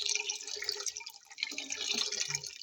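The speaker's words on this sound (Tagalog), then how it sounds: "So, lagyan natin ng tubig." Water pours into a soup pot for corn and vegetable soup, a short splashing, trickling burst that fills the kitchen with no talk.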